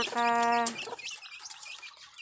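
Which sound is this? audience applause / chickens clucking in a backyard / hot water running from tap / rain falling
chickens clucking in a backyard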